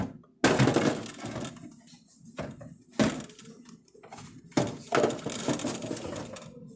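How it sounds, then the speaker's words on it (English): Plastic ice crusher being fitted back into a Frigidaire Gallery refrigerator, heard as a series of sharp clacks and rattling knocks, several separate bumps and scrapes close by with no talking. "Now that it's all clean, let's go ahead and put the ice crusher back in."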